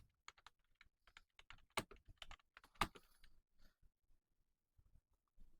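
Clicky computer keyboard typing in bursts of separate keystrokes, with a couple of louder, sharper presses standing out like a firm Enter hit, then sparse taps with quiet gaps.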